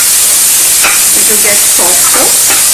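Onions with a little salt sizzle and hiss steadily in a hot pan, a loud, continuous frying noise with a few soft stirring scrapes and a faint voice in the background.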